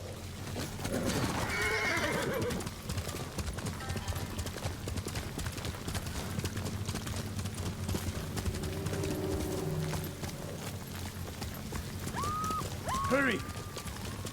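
A horse in the samurai video game Ghost of Tsushima whinnies and moves with hoof clip-clops under background music, while game characters talk during the ride.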